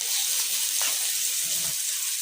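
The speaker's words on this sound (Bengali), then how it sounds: "আর এখানে হচ্ছে আম্মা এখন কাঁকরোল ভাজতেছে" Spiny gourd (kakrol) fries dry in a pan in a home kitchen, giving a steady, close, continuous sizzle with faint stirring scrapes and no talk.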